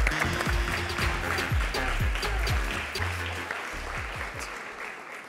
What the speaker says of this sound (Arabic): تصفيق حار عليهم